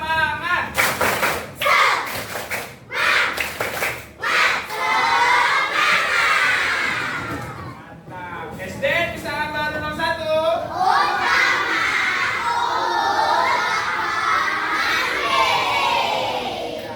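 Classroom of third-grade children doing a rhythmic spirit clap chant, bursts of clapping and thumps mixed with loud shouted chanting and cheering from the group, close and lively, with an adult voice leading.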